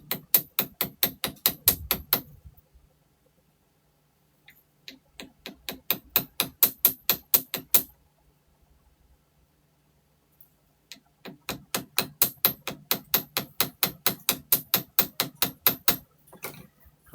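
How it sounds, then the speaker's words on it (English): A hammer tapping a small wire flower charm in quick, even bursts of sharp metallic strikes, three separate runs split by short silences, close and clear with no talking. "Let me hammer to show you."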